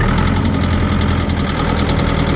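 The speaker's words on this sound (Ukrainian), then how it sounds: "Трохи газку давайте" A mini tractor engine held at raised throttle, a loud, steady, close mechanical drone with a knocking vibration and no voices.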